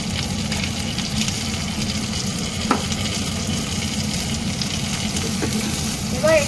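Onion rings, two dried chillies and salt frying in a pan, a dense, loud, continuous sizzle close up with a couple of faint utensil taps, no talking.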